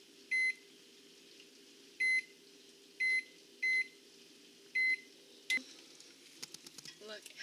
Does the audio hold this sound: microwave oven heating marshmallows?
yes